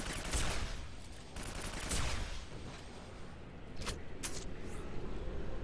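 A railgun fires in the Quake 4 video game, sharp blasts cutting through dense, roaring combat noise, with a few bright cracks near the end.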